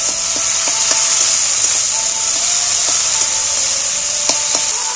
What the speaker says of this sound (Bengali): এবার মশলাটাকে আমি একটু কষিয়ে নেব